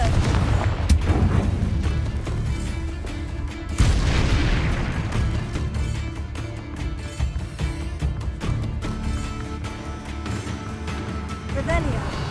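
Confringo blasting spells from Hogwarts Legacy burst with booming explosions, a heavy blast near the start and a loud one near the middle, over continuous rumbling battle noise.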